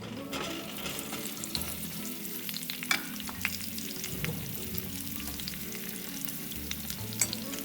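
Baby potatoes dusted with turmeric sizzle steadily in a pan, with repeated close clinks and scrapes as they are stirred, and no voice.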